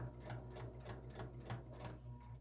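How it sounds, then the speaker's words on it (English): Domestic sewing machine stitching binding onto a quilt, a steady close mechanical whir with regular rapid needle clatter repeating about every third of a second, running alone without talk. "And then I'm just going to start sewing."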